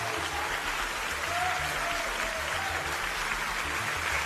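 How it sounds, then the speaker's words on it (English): Audience applause on a television reality show for a mentalist's performance: broad, steady clapping with no speech over it, fairly distant and even in level throughout. "Wild and thunderous applause."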